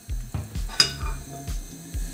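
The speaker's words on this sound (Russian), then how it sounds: "и обжарим кусочки нашей рыбки со всех сторон буквально 1 минуту" Soft rhythmic scraping of a utensil in a pan as salmon pieces fry in a little sunflower oil, repeating about every half second, with a faint sizzle and one light metallic clink.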